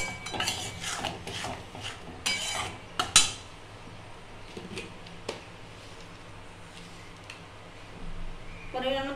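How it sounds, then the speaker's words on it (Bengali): Garlic being stirred in a pan over a very low flame, with a utensil scraping and clinking against the metal in a string of irregular taps and scrapes over a soft, steady background hum. "একদম কম ফ্লেমে একটুখানি নাড়াচাড়া করবো, যাতে রসুনের কাঁচা গন্ধটা চলে যায়।"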